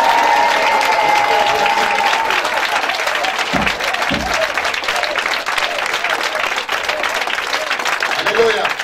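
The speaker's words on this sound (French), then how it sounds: "Est-ce qu'on peut l'acclamer Jésus?" A French-speaking church congregation at a Saturday praise and worship service cheers and applauds for Jesus, with steady loud clapping and crowd noise throughout.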